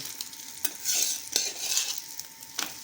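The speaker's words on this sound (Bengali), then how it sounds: "ভালো করে তেল লাগানো হয়ে গেছে, নিচে সেঁকা হচ্ছে" Egg roll frying in oil in a pan, the egg cooking on the underside, gives a steady close sizzling hiss marked by a few sharp crackles and small spatula taps.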